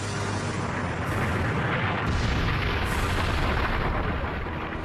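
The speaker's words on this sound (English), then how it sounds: "What happens is you get a huge explosion" A huge explosion from a celestial impact, rendered as a loud broad rumbling roar that surges in several waves and sustains without pause, no voices present.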